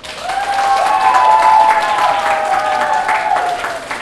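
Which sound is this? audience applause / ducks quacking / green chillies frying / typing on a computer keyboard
audience applause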